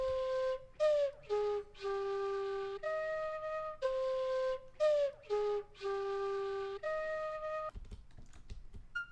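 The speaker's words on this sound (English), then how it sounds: "but it's actually a bonsuri flute that I bought online" Bansuri flute plays a breathy melody of sustained and quickly slurred notes with little pitch bends, clear and close, ending in a brief burst of soft rustling noise.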